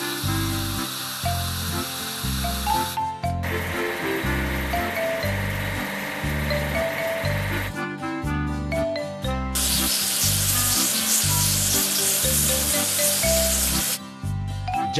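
Water spray hisses over a covered truck during a wash in a children's farm-building game, coming in two long, loud bursts over looping cartoon music.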